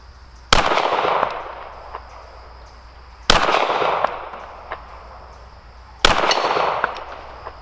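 Three sharp pistol shots from Canik Mete SFx and TP9 SFx handguns ring out about three seconds apart at an outdoor range, each loud crack followed by a long echoing decay.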